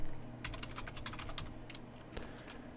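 Someone types on a computer keyboard in a quiet room, a quick uneven run of crisp, fairly close key clicks.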